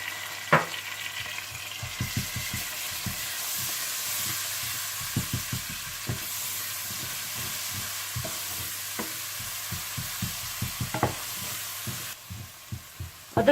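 Onions with ginger-garlic paste frying in a pan, a steady sizzle with repeated stirring scrapes and taps clustered in bursts throughout, fairly close and alone without talk.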